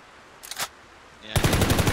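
Gunfire from the G91 rifle in the online battle royale game Ring of Elysium: a short, sharp burst early on, then after a brief pause a louder, rapid string of shots fired close up.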